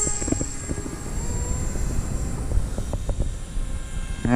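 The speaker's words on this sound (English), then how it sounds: "Add a little bit of throttle, and I got to get right on the elevator." An X-UAV X8 Skysurfer RC plane's electric motor throttles up for launch, giving a steady buzzing whine under wind rumble and a few light knocks, close by.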